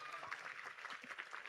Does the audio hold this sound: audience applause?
yes